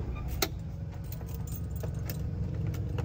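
Car ignition keys jangle as the car is switched off, a few light metallic clinks over a steady low engine hum, close by with no talking.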